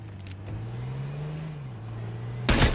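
A truck in a video game drives away, its engine holding a steady low drone that rises slightly in pitch then settles, followed by a brief loud burst at the end.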